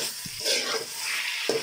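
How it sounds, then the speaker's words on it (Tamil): Capsicum and groundnut being sautéed with salt in a pan give a steady close sizzle, with a couple of soft stirring scrapes and no talk. "ஸோ இப்போ நல்லா மிக்ஸ் பண்ணி விட்டுட்டு நம்ம சால்ட்டு சேர்த்து கொஞ்ச நேரம் வதக்கணும் இல்லையா."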